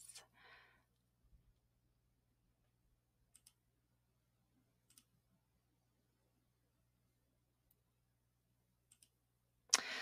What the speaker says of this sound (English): I'm going to click About.